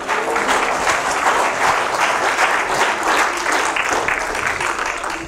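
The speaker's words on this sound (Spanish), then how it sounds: "Dele fuerte el aplauso al Señor." A church congregation applauds steadily and loudly for the full stretch, a dense wash of clapping with no break and no talk over it.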